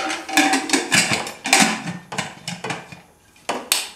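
Clanking metal lid sounds from a pressure cooker being fitted and locked, a series of sharp knocks and scrapes at close range.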